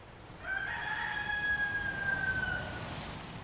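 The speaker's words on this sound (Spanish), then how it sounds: "Y entonces cantó el gallo." A rooster gives a single long, drawn-out crow, clear and loud, sustained for about two seconds with nothing else around it.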